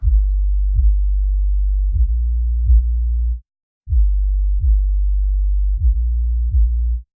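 Electronic kick drum and sub bass in a mix with sidechain off, deep booming low notes hitting in a steady pattern with punchy kick transients, a short gap midway, loud and alone.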